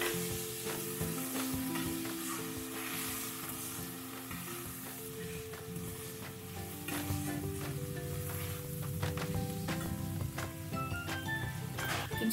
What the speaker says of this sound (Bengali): চালটা একটু ভালো করে নেড়ে নেব।